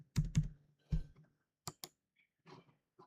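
A computer keyboard is typed on to name a new folder, giving a handful of close, quiet, irregular key clicks with short pauses between them.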